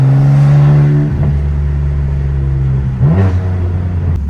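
Straight-piped BMW M3 engine revving hard, its loud raw exhaust note dropping and settling to a steady drone before a second quick blip, with turbo spooling whir audible close by; no talk.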